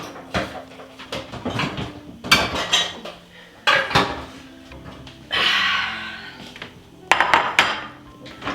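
Pots and pans clattering in a kitchen cupboard during a search for a pan, loud, close metallic clanks and bangs in irregular bursts with a sliding scrape midway.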